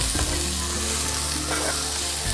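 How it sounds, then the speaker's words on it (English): Onions sautéing in a pan, a dense, continuous sizzle that is loud and close, with faint stirring underneath. "So I'm going to add the onions now."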